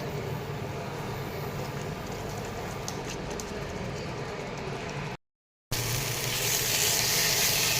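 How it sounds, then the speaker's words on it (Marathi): Tomato puree sautés in hot oil in a pan, making a steady, dense sizzle that cuts out briefly and then resumes slightly brighter. "टॉमॅटो प्युरीला तेल सुटेपर्यंत आपण हे छान परतून घेऊयात"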